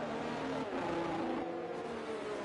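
Race cars droning together on a formation lap in a racing video game, a continuous blended engine hum at steady volume with no clear passes.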